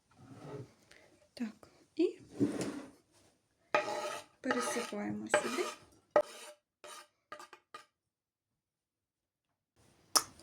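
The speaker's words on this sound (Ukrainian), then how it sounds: "гарно перемішую." A utensil scrapes and clinks around a bowl of grated zucchini mixture in irregular strokes, close by, with soft breathy sounds between bursts before it falls quiet.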